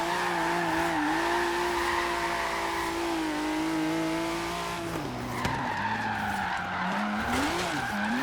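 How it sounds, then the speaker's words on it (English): A sports car drifting, either a 2017 Ford GT or a McLaren 650S, with a long continuous tire squeal riding over the loud engine drone, the pitch sliding up and down as the slide goes on. "Might not be the longest drifts ever"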